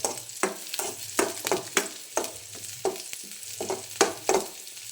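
Onions and chillies sizzle steadily in a hot pan in a home kitchen, broken up by repeated rhythmic scraping strokes of a spatula stirring them, quiet and close with no talk.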